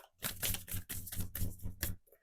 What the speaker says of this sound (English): Let's give it a really good shuffle.